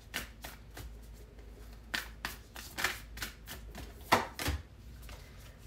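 A deck of oracle cards is shuffled by hand close up, with a quiet run of irregular riffling snaps and slaps and a sharper clack near the end; nobody talks.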